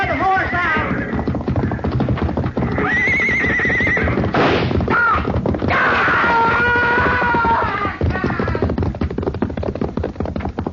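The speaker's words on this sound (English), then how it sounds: "he's trying to ride the horse out." A horse whinnies and neighs repeatedly amid galloping hoofbeats in a radio drama scene set at a burning hayrick, loud and close, with voices talking and shouting over it.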